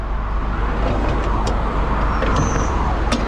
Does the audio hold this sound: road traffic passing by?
yes